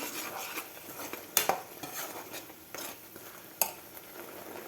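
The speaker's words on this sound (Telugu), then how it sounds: "పచ్చివాసన పోయే వరకు ఆనియన్స్ ఫ్రై చేసుకోవాలి" Onions frying with turmeric and salt for an Andhra-style fish curry, a quiet continuous sizzle broken by a few sharp metallic clinks of a spoon against the pan.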